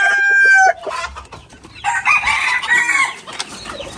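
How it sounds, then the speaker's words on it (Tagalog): Tito Albert's many chickens, a loud nearby crow that cuts off, then scattered clucks, and a second, more distant rooster crowing in the flock. "Mga manok ni Tito Albert."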